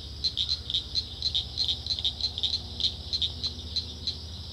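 Frogs calling at night near a trail where airboats run, a rapid, repeated chorus of high chirping croaks pulsing steadily at moderate distance over a low background drone.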